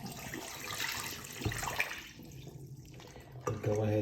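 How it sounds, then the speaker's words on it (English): Water being poured out of a cup, a brief splashing pour into a sink or basin, close and moderately loud, with a louder burst of flow at the end. "I'm gonna get rid of the water"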